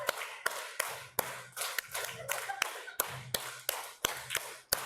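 A school group claps together in a repeated rhythmic pattern: sharp, crisp hand strikes recurring in regular clusters, loud and close, with no talking.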